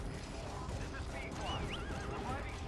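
Horse whinnying in Metal Gear Solid V: The Phantom Pain, a wavering neigh over steady game noise and background rumble, with people talking at the same time.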